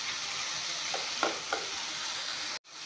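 Khar made with banana ash sizzles and fries in a pan, a steady hiss broken by a few scraping stirs, then cuts off abruptly near the end before the sizzle resumes.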